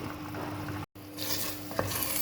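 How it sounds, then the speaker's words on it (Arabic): Chicken and onion fry in oil in a pan with a steady close sizzle, broken by a brief dropout near the middle, then continuing with faint stirring clinks. "دابا نخليها تقلى مزيان تتنشف"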